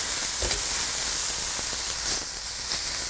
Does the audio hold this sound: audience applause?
no